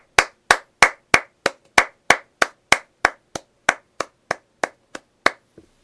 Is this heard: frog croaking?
no